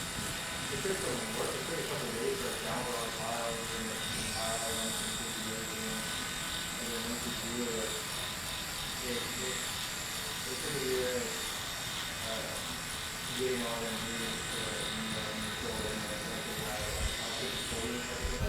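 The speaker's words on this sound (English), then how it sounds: "Put my clipper on 0." Electric hair clippers buzz steadily while cutting a head of hair for a fade, a close continuous hum that wavers as the blades move, with a person talking over it.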